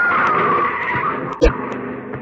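A car skids past close to a pedestrian on a street, with a short tire screech and engine rush, followed by a brief sharp knock, lasting a couple of seconds.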